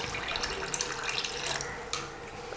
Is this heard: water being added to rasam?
yes